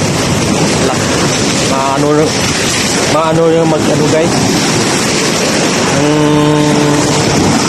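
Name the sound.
ocean waves crashing against a wall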